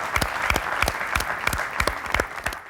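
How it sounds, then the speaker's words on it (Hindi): An audience at a ghazal music show honoring a singer claps in distinct rhythmic beats, a steady sequence of sharp, evenly spaced claps at moderate volume. "एक ज़ोरदार तालियां I think we all need to"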